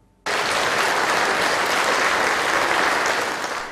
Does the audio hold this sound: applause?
yes